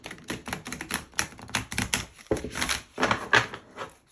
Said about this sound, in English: I just want to give it one more shuffle because I haven't used this deck in a while